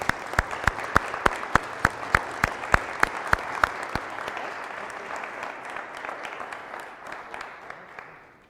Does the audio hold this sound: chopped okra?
no